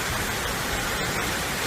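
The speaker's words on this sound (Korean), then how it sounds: "물소리가 아름답습니다" Steady rushing water of a forest stream, a continuous broadband wash at moderate level throughout with no clear breaks.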